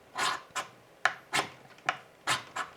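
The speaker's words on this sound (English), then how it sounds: "Oh, I'm scraping paint. There's a lot of paint on this, evidently." Several short rasping scrapes of a Coghlan's flint striker being drawn across painted metal, about seven irregular strokes, close and fairly quiet, with no one speaking.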